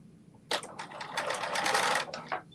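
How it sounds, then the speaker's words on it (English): A sewing machine runs in one short burst of rapid stitching along a seam, close and fairly loud, starting abruptly and stopping after about two seconds, with a brief tail of stitches after. "Just sewing it down."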